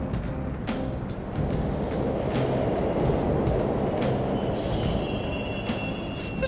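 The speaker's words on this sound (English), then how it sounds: "The trains are totally running!" Subway trains running through an underground station in Persona 5 Royal give a steady low rumble with a train passing. Regular clacks of wheels over rail joints repeat through the stretch, and thin metallic squeals rise near the end.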